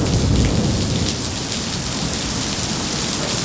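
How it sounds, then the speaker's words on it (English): A heavy downpour falls during a thunderstorm, a loud, steady hiss of rain on surfaces that fills the whole stretch without letup and with no voices. "Well, that was thundering and lightning. It's been coming down like real hard."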